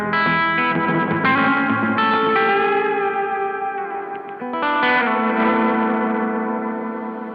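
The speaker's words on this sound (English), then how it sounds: "it does open up the sort of the sound of the reverb and adds gain to the circuit" An electric guitar runs through a Death By Audio Reverberation Machine reverb pedal with added gain, playing loud distorted chords that ring into a long, washy reverb tail, with a brief dip midway before the strumming swells back.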